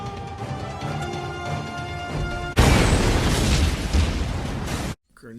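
Grenade blast in a Unity roguelite game: a sudden loud burst of broadband noise cuts across a musical background and rumbles on for about two and a half seconds before cutting off abruptly.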